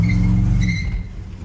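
A supercharged RAM truck with a 5.7 Hemi accelerates from near range, its loud low engine roar faltering with a slight sputter before the sound drops away.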